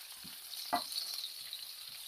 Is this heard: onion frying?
yes